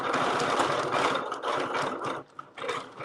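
A sewing machine runs free motion quilting with a fast, steady mechanical whir and needle chatter, pausing briefly near the end before starting again.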